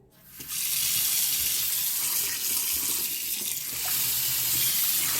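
Water gushing from a newly fitted tap during a leak test, a strong steady hissing stream that starts abruptly and runs continuously close by, with no talk.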